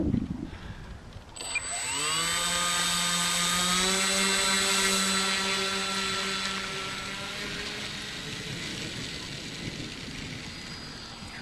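An RC FunCub model airplane motor spins up after a short quiet start into a whining, rising electric buzz that holds steady, then slowly fades as the plane flies off on a windy day.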